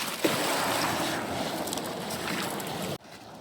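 Small waves wash steadily onto a Lake Michigan beach with a constant broadband rush and some wind buffeting near the microphone, dropping abruptly quieter near the end.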